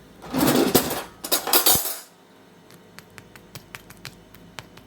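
A metal spoon is pulled from a drawer of cutlery, a loud jangling clatter of dishes and silverware for about two seconds, followed by scattered light clicks and taps.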